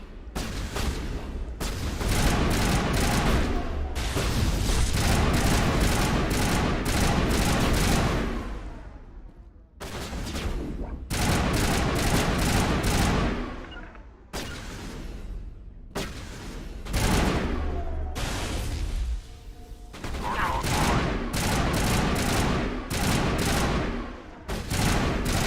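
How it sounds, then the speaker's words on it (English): Sustained automatic gunfire in the Mass Effect sci-fi shooter, loud rattling bursts of several seconds each separated by brief pauses, up close and with no speech over it. "Whoa, Rex, don't shoot at me."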